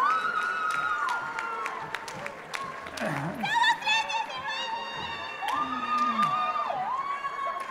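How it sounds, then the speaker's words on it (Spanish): Audience at a school innovation challenge awards ceremony applauds and cheers for the first-place team, sustained clapping with shouts and whistles, while a presenter talks over it. "Un fuerte aplauso, por favor,"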